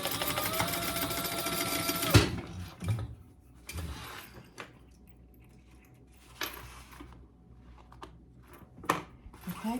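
A sewing machine runs a basting stitch through lining fabric, a dense steady whir for about two seconds that stops abruptly, followed by quieter clicks and fabric handling.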